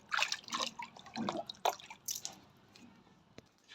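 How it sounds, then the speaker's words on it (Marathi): A cooking pot is rinsed with water, with close splashes and drips coming in uneven bursts that thin out toward the end, and no voices. "चला आता हे भांडं अगोदर पाण्यानं चांगलं धुवून घेऊ"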